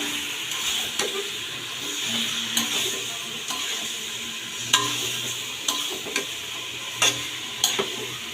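Meat sautéing in a pan for biryani, a steady close sizzle with a stirring spoon scraping and tapping the pan at irregular intervals.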